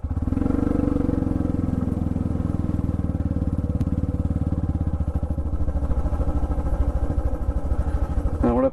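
A motorcycle rides along a narrow village road toward Gadrasini Hill in Jhargram, its engine droning loud and steady throughout with a continuous rough, pulsing note, close by and with no talk.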